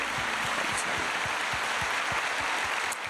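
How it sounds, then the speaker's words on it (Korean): A church congregation at a Wednesday prayer service applauds together, a steady wash of many hands clapping with a rhythmic pulse, loud and sustained throughout. "우리 하나님께 영광의 박수 올려드립니다"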